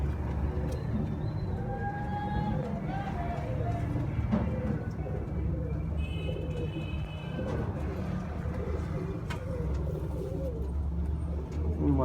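Sialkoti pigeons kept by a breeder coo softly and repeatedly in a steady, low, murmuring stream, with faint background voices and scattered noises.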